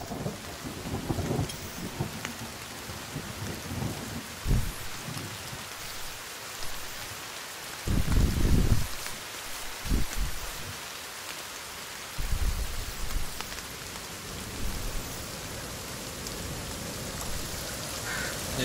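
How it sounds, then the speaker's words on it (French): A thunderstorm in the survival video game The Forest brings steady rain hissing throughout, with several deep thunder rumbles rolling in at intervals. "Ah, putain, d'accord, c'est un orage."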